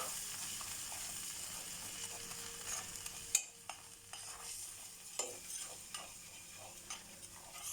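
Flour and fat cooking in a thick-based pot as the start of a white sauce for vegetable pasta, a faint low sizzle with soft bubbling and intermittent scraping stirs and taps, quiet and without talk.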